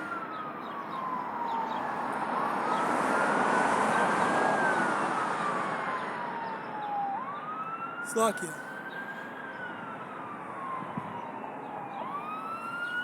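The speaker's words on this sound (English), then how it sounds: "fire truck, I guess. Must be a fire" A fire truck siren wails in slow rising and falling sweeps as the vehicle passes, swelling louder then fading into the distance, with a brief voice and a sharp clatter partway through.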